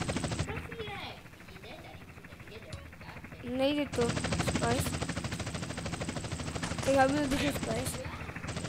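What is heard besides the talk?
police helicopter in video game GTA San Andreas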